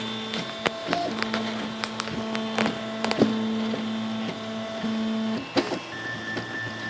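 A 3D printer prints a part, its stepper motors giving close, steady tonal whirs that shift pitch from move to move, with frequent small clicks and ticks throughout and no talk.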